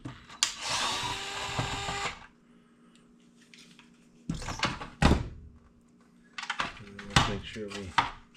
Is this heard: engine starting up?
no